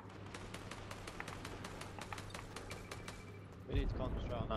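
Quick regular gunshots crack in a Fortnite match, a steady string of moderate-volume shots followed by a louder burst as talk comes in at the end.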